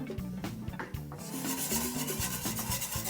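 Pumpkin spice syrup being worked in a pot with a whisk, with a scraping, rasping rhythm of metal against the pan, repeated quick strokes close up and steady throughout, no talking.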